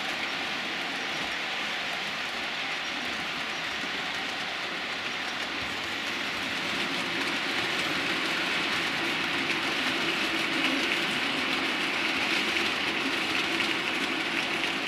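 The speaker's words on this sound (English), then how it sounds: "I've got the class 24 in on behind there with the rake of tankers on." A class 24 model railway locomotive runs with a rake of tanker wagons, producing a steady, continuous rumbling hum with faint rail clatter that swells slightly toward the end, with no talk.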